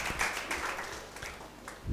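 A church congregation claps during a pastor's sermon, a dense, soft patter of many hands heard faintly from a distance for a couple of seconds.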